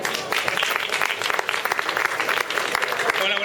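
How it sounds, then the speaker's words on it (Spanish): Audience applause at a PechaKucha evening of short talks, a dense, even burst of many people clapping that holds steady throughout, with faint crowd voices underneath. "Un aplauso."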